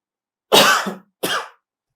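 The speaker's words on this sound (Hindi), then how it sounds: "अभी खांस थोड़ी रहा हूं मैं, क्या कर रहा हूं?" Two hard, dry coughs from a man in an indoor talk setting, the first longer with a throaty tail, the second shorter after a brief pause; loud and close, with no talk over them.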